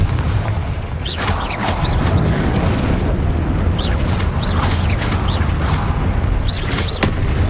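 Confringo explosive spell blasts in the Hogwarts Legacy video game, a dense run of booming bursts and crackling impacts over constant rumbling game noise, with sharp whooshing spell hits recurring every second or so.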